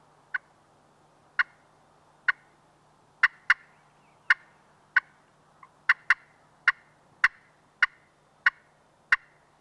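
Sharp, evenly spaced clucks from a slate friction turkey call, the striker dragged against the grain of the slate, about fifteen crisp raspy pops ringing out alone over a faint low hum.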